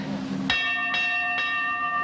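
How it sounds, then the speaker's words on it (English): A bell is struck three times in quick succession, each strike a sharp clang with a ringing metallic overtone that lingers, loud and close, resembling a fire alarm bell. "Shall I ring that bell?"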